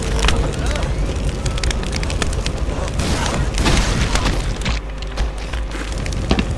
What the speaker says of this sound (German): Der ist auch explodiert.